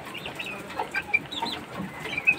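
Young black chicks cluck and peep in scattered short calls, with soft chirps coming close together over a low farmyard rustle. A few calls stand out louder and nearer.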